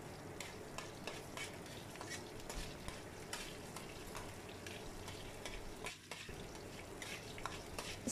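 Ingredients for rava upma fry in a pan with a soft, steady sizzle, punctuated by regular stirring scrapes and light clinks of a utensil against the metal, all fairly quiet.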